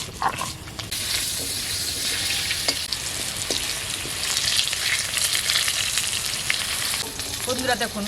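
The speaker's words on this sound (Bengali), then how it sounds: "ওলটা ভাজছে" Pieces of elephant foot yam fry in a pan of hot oil, giving a steady, close sizzle with crackling spits throughout and an occasional soft stir or clink; no voices.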